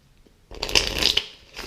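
A deck of double-backed playing cards riffle-shuffled close up: a brief quiet, then a rapid flutter of cards cascading together for about a second, ending in a soft squaring tap.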